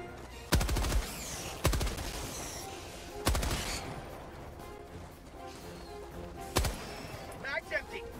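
Gunfire in the video game Helldivers 2 rings out in four sharp, loud bursts spaced a second or more apart, each with a short ringing tail, over a low background.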